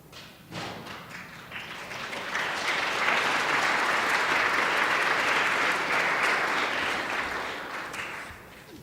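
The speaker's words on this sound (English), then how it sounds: "I have an applause break built in. You guys will know when to clap." An audience breaks into applause at a land acknowledgment event, building over a couple of seconds into a sustained crowd clap that tapers slightly toward the end, heard from within the room.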